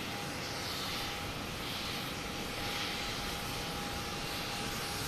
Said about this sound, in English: Yep, British Airways is taxiing.